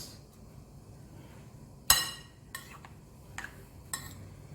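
A spoon or whisk knocks against a bowl while two eggs are mixed into an experimental dish: one sharp clink, then a few lighter taps, all quiet and close with no talking.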